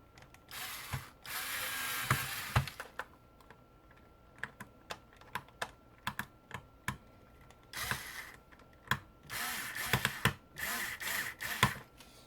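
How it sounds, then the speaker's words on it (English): A clutch-equipped screw gun drives small screws into a Tamiya CC01 RC car's front differential area. Short whirring bursts are scattered among sharp ticking clicks, close and moderately loud, with a longer run of driving near the end. "I like using a screw gun with a clutch, that way you can make sure you do not over tighten them."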